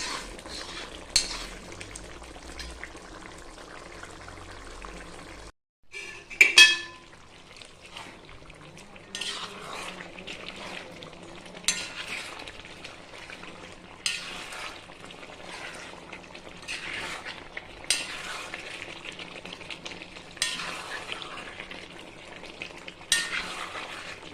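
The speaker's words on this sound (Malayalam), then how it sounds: "വെള്ളം ഗ്രേവിയൊക്കെ വറ്റി പാകത്തിനായിട്ടുണ്ട്" Chicken simmering in thick gravy for dum biryani as the liquid cooks down: a faint, steady sizzle runs throughout, with a loud scrape of a spoon in the pan and repeated light clinks of stirring.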